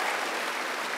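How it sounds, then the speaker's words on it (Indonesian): An Indonesian church congregation bursts into applause during an online worship service, a brief, dense burst of clapping from many hands filling the room. "Tepuk tangan bagi Allah kita."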